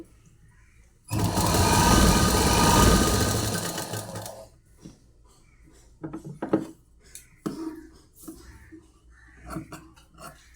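A sewing machine runs in one steady, loud burst of a few seconds while polish stitching is sewn on a saree, then stops; quieter clicks and handling sounds of fabric follow.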